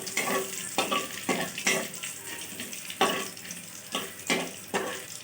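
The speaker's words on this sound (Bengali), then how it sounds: "আমি জিরে, আস্ত জিরে, শুকনো লঙ্কা, তেজপাতা ফোড়নে দিয়েছি।" Whole cumin, dried red chillies and bay leaf fry in hot oil, a steady sizzle broken by repeated rhythmic scraping strokes of a spoon stirring the pan, close and fairly loud with no talking.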